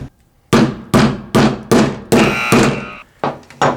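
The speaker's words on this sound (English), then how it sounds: "I have this hatchet here, and that could help us just kind of crack it open a little bit" Hatchet striking an Apple HomePod smart speaker, seven sharp, loud, close thunks in a steady rhythm about every half second, with one longer ringing hit in the middle, and no talking.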